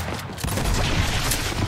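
Gnasher shotgun blasts in Gears 5 free-for-all on PC, dense booming reports packed together over a loud, continuous background of game noise.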